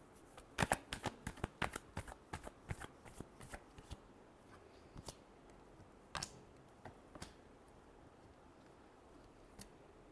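Tarot cards are shuffled as a quick burst of crisp riffling snaps early on, thinning into scattered soft card taps and flicks, close and quiet with no talking.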